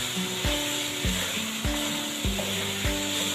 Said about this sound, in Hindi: कीमे के अंदर डाल के इसको कीमे के साथ मैं मिक्स कर दूँगी।